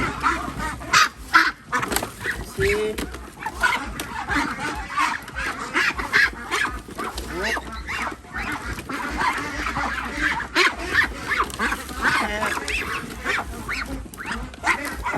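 Young Muscovy ducks being caught at a farm for shipment to Laos, giving repeated loud honking and squawking calls in irregular bursts, close by, with rustling and handling noise between calls.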